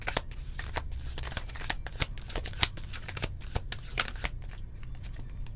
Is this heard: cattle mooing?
no